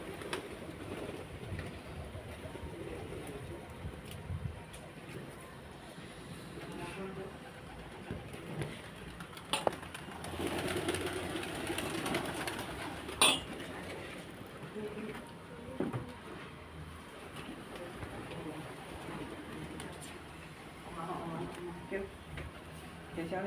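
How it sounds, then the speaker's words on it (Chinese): Pigeons coo softly while being fed bread at a house, their low murmurs mixed with light rustling and nearby voices talking through most of the stretch. "给小鸟吃了"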